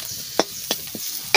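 Spice paste frying in a pan with a few short scraping stirs spaced apart, under a low sizzle, ending in a louder burst of sizzling as something is added to the pan; no talking.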